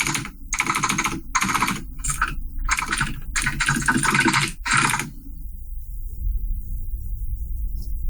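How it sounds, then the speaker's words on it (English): Loud, close computer keyboard typing in rapid bursts of clacking keystrokes separated by short pauses, stopping about two-thirds through and leaving quiet background hum. "we can all hear you typing super loudly"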